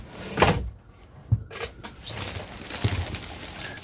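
Kitchen cupboard doors of marine-grade plywood on heavy-duty hinges in a 2024 nuCamp 400 HB camper, opening and closing with three soft knocks and clunks spaced across a few seconds, fairly quiet with no talking.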